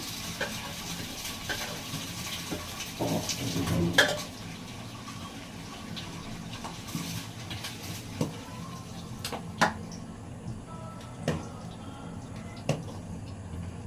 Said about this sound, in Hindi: अब मैं पनीर को डालती हूँ कढ़ाई में